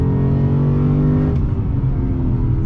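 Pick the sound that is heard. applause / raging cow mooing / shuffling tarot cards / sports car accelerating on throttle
sports car accelerating on throttle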